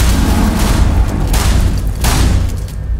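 Sledge's shotgun in Rainbow Six Siege firing loud, booming blasts, with two heavy shots standing out over constant dense game noise and rumble.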